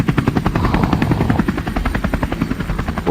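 A surveillance helicopter sound effect: loud, close rotor thumping beating in a fast, even rhythm throughout a short burst, with no voices.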